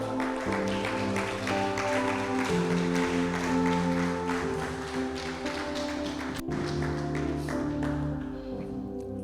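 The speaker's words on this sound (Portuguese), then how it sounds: "Dê uma forte salva de palmas ao Senhor." A church congregation claps steadily throughout a Portuguese-language service, dense continuous applause that runs under sustained music or singing.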